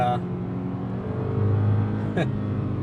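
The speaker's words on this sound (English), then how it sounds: "You can definitely hear the engine, and the exhaust note is incredible." An Infiniti G37 S with a 6-speed manual drones steadily with a rich exhaust note, briefly shifting pitch and roaring up near the end.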